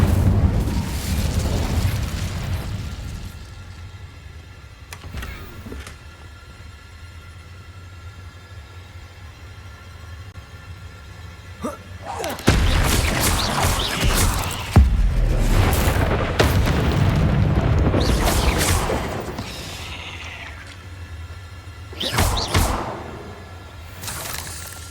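Incendio fire spells cast in the video game Hogwarts Legacy, bursting as loud, booming blasts, with one early burst and a cluster of heavy whooshing explosions in the latter half, with no talking.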